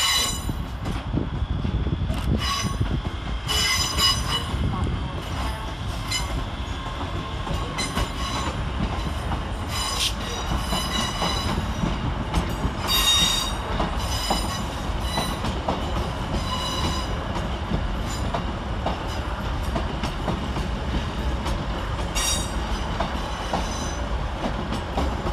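ScotRail Class 385 and Class 156 trains rumble steadily through Glasgow Central station, with continuous wheel and engine noise, occasional squeals and clicks from the rails, and no voices.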